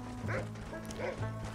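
A dog barks a few times in Red Dead Redemption, short yips over a steady low game hum and faint hoof-like clopping.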